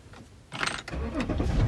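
A 2010 BMW X5 engine is started with the key, a short cranking burst that catches and settles into a steady idle, close up with no talk.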